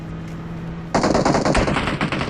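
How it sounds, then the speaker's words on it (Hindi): Gunfire in the mobile battle-royale game PUBG Mobile, a sudden burst of rapid automatic shots that cuts in after a quiet moment and rattles on loudly to the end. "मैं जा ही रहा था यहाँ से, लेकिन पीछे से फायरिंग होती।"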